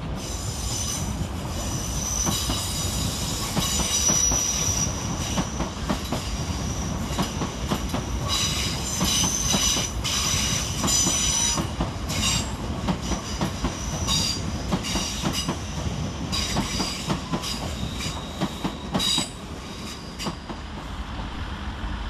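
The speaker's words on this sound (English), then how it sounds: "Next to pass through the station working 5 Yankee 89 from London Waterloo to Wimbledon Park Depot is 458509 and 458534." Class 458 units 458509 and 458534 pass through Clapham Junction station, a sustained loud rumble of wheels with rhythmic clicking over rail joints and high squealing tones throughout, no voices.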